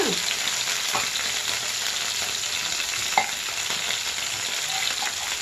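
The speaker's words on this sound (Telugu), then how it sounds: "ఒక 1/2 కప్పు వేసుకోండి బఠానీ, గ్రీన్ బఠానీ. ఆనియన్స్తో పాటు వేగిద్ది, బాగుంటుంది." Green peas frying with onions in a pan make a steady, dense sizzle with a few stirring scrapes and clinks. The sound carries on alone at an even level, with no talk.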